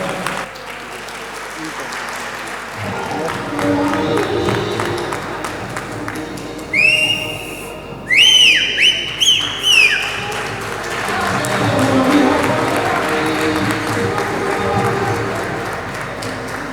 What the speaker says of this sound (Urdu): آپ سے تالیوں کی درخواست